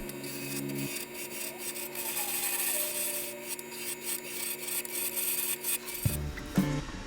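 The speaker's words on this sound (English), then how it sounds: "we're going to use our spindle rough and gouge to set our basic shape" Spindle roughing gouge cuts a small wooden ghost blank spinning on a lathe, giving a steady close rasping scrape with a constant motor hum, then a few louder knocks and clunks near the end.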